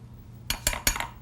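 Simmering soup in a pot is stirred with a utensil, giving three quick close scraping clinks of metal against the pot in a short burst.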